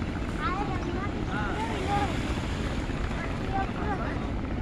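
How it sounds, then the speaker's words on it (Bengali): A navy speedboat passes on the Dhaleshwari river near Dharmaganj ghat at sunset, a steady broad engine roar mixed with heavy wind buffeting the microphone and faint distant voices. "নৌবাহিনীর একটি স্পিড বোট চলে যাচ্ছে"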